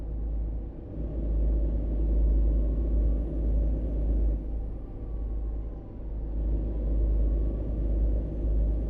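A heavy haul truck in American Truck Simulator, hauling about 88,000 pounds from Tulsa to Houston, gives a low, steady engine rumble that eases slightly as the throttle backs off, quiet and unbroken.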